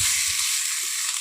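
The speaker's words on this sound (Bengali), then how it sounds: "মাংসটা তোমরা এইভাবে কষাতে থাকবে।" Chicken pieces for a red curry sizzle and hiss steadily in a hot pan as they are stirred, a close, continuous frying noise with faint scraping.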